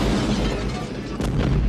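Dynamite explosion from Stripe of Gremlins in the fighting game MultiVersus, a dense, rumbling blast filling the whole short moment with heavy low booming, loud and continuous, with a voice talking over it.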